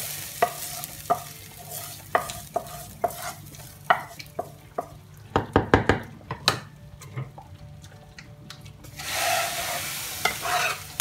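Tomato tadka masala frying and being stirred in a pan for moong masoor dal, with repeated spoon scrapes and clinks over a steady sizzle that swells louder near the end.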